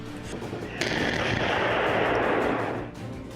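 A sustained, loud roar of explosions from Israeli air strikes on Rafah swells suddenly and holds as a dense, rumbling blast before fading slightly, with no voices.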